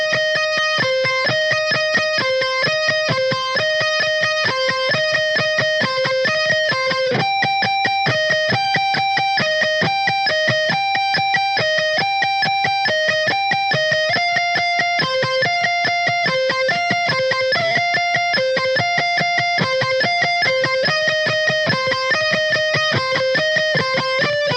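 An electric guitar plays a song's intro slowly, a steady, evenly picked sequence of bright, clean-sounding notes, close and alone with no voices.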